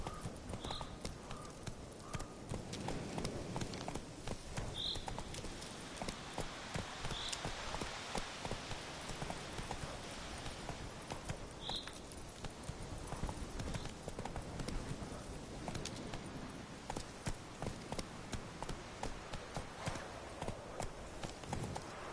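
A ridden horse's hooves clip-clop in a steady rhythmic gait at moderate distance, with brief faint calls to the horse now and then.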